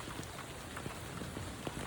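Rain falls steadily during a bee hive installation outdoors in Walnut Creek, a soft continuous patter of drops on surfaces, faint and even throughout, with no voices.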